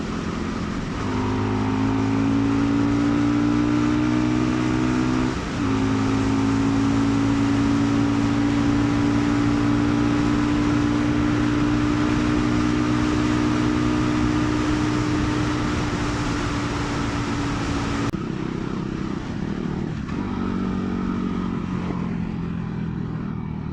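Fantic Caballero Scrambler 500 Deluxe motorcycle under way on the road, a loud steady engine drone with clear harmonic tones that rise slightly as it accelerates, shifting pitch at gear changes and easing off near the end.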